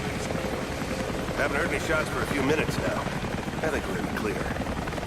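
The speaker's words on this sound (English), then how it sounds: "That was Constantine's chopper." A helicopter drones steadily in the distance through a video-game scene set outdoors, a continuous rotor rumble running under the brief exchange of two characters talking.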